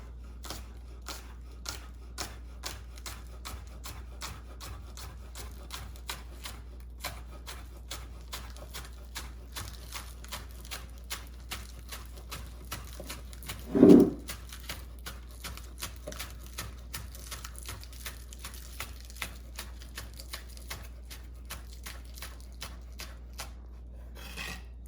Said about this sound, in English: So we're just gonna go very simple and cut these nice and thinly.